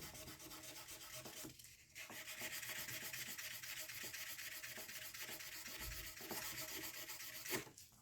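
Fine 400-grit paper sands the frets of a Fender Precision bass, making a steady, quiet scratching rub in repeated strokes with short pauses between them.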